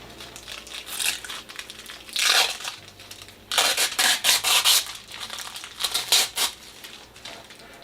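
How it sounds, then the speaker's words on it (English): Protective peel-off coating is stripped from flat-pack tarantula tank panels, giving loud, close crinkling and tearing rustles in uneven bursts with brief pauses, and no voices. "This is actually the longest part, is the unwrapping."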